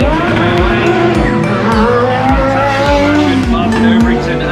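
A 1988 Arrows A10 Formula One car with a 5-litre V8 of about 500 horsepower drives past with loud, rising and falling engine notes and repeated gear changes, while a commentator talks over it.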